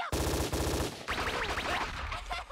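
Rapid automatic gunfire in an anime fight, a loud dense burst of shots followed by ricocheting whines and metallic pings, close and without talk.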